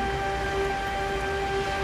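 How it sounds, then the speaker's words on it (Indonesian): Heavy rain pours down in a steady, unbroken hiss that holds at an even level throughout, with a faint tonal hum underneath and no voices. "hujannya lumayan deras nih"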